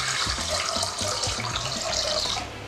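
Water runs steadily from a kitchen tap while a chef prepares a pickling brine, a continuous close splashing stream that tapers slightly at the end.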